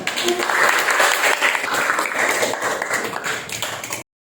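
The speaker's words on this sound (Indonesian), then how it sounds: "Jadi berikan tepuk tangan kepada Januari." Students in a classroom give a classmate a round of applause, a dense burst of clapping that fades gradually over about four seconds and then stops abruptly.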